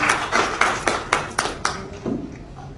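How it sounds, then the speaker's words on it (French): An audience at a women leaders' association event in Côte d'Ivoire claps for the president, a short run of about eight even, rhythmic claps that fade toward the end. "Applaudissez pour Madame la Présidente."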